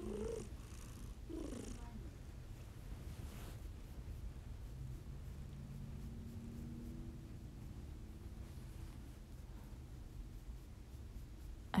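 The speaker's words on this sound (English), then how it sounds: "Can't get my cat to purr any more than that." Pet cat purring close to the microphone, a faint, low continuous rumble with soft rhythmic pulses, and a little quiet movement noise early on.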